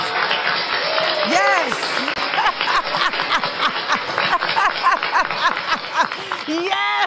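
Audience at the Genesee Theater applauding and whooping, a dense wash of clapping with cheers rising over it throughout, voices shouting within the crowd.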